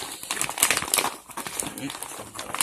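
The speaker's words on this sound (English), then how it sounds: "So we're going to use a handy knife and just cut across." A knife slices across an older MRE pouch of spaghetti with beef and sauce, giving a close, continuous crinkling and scraping of packaging that runs for a few seconds.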